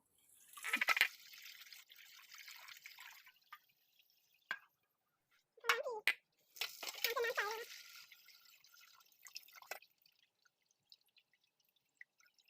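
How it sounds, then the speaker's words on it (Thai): Pork liver is rinsed in water in a home kitchen: quiet, intermittent splashes and trickles come in short bursts separated by silent gaps, with a busier sloshing run in the middle. "ล้างให้สะอาดเลยนะคะ หมายถึงน้ำล้างจนน้ำใสอะเนาะ"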